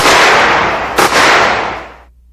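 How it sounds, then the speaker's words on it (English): An AAI Advanced Combat Flechette Rifle firing semi-automatic: a loud, harsh report with a sharp crack partway through, followed by a fading outdoor echo that cuts off abruptly. "The weapon will also fire one round per trigger pull in a semi-automatic mode."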